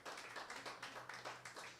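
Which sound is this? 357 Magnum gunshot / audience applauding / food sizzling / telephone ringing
audience applauding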